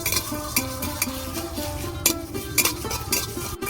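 Whole cumin, coriander seeds, dried red chillies and bay leaves are dry-roasted in a pan, with continuous scraping and stirring of a spoon against the metal, light rattling and clinks, close and steady.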